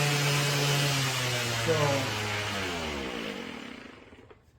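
A Makita XOB01Z 18V cordless 5-inch random orbit sander runs with a steady, close motor hum, dropping slightly in pitch as it spins down and fading away near the end. A voice briefly speaks over it.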